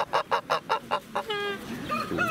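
An ornamental chicken at a bird market gives a quick series of about six clucks, followed by a drawn-out warbling call and softer clucking nearby.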